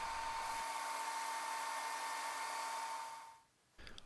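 A belt sander smooths lacewood surfaces with a quiet, steady motor whine and sanding hiss, holding even for several seconds before spinning down and fading.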